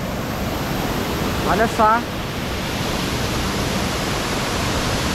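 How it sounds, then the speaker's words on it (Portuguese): A waterfall at a campsite makes a loud, continuous broadband roar of rushing water, and a short spoken exclamation briefly rises above it near the middle. "Bonita essa cascata, né?"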